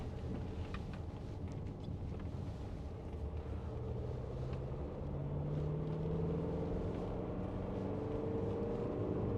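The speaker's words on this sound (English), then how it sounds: "Engine sounds really good." A 2017 Mercedes-Benz GLC220d diesel engine hums steadily, its pitch gradually rising as it accelerates through a bend, heard from inside the cabin with no talking.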